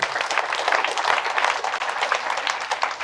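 Audience at a spiritual talk applauding the author of a book, a loud, dense, steady round of clapping from many hands close by, with no speech.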